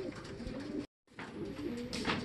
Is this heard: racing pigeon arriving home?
yes